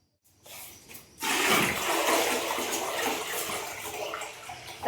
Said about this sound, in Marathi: आम्ही पाणी टाकले.